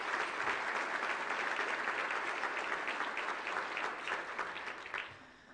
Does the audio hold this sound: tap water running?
no